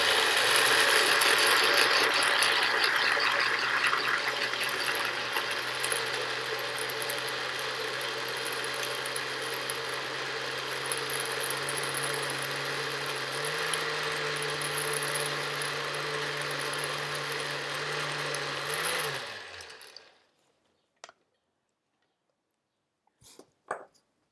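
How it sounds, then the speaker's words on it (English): A countertop blender purees romesco sauce with added water, a loud steady motor whir that runs for about nineteen seconds, shifts pitch slightly near the end, then cuts off into near silence with a few faint clicks. "I'm blending it until smooth"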